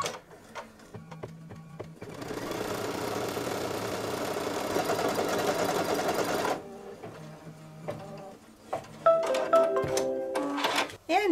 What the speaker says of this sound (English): the very first thing it's going to do is stitch a placement line for the batting